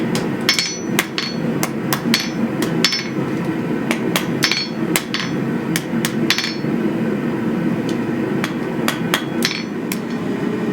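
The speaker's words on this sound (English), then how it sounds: "Once I put the curl in with a pair of pliers, I can clean it up with a hammer." A hammer shapes the forged steel curl of a flint striker made from an antique hay rake, sharp metallic strikes landing in irregular bursts and quick pairs, close and loud, over a low background hum.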